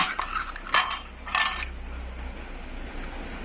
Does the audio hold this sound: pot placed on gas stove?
yes